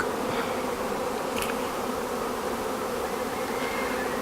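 A honeybee swarm arrives at a small nuc hive, giving a loud, dense, continuous buzzing drone from many bees close by that stays steady throughout with no talking.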